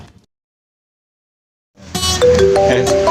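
A phone's electronic ringtone melody bursts in loud and close after nearly two seconds of silence, a bright tonal chime that repeats with clear harmonics in an indoor home scene.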